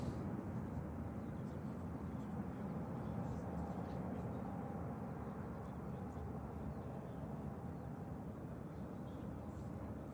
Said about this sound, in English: Over Virgin Atlantic, Airbus A350 heading out as well.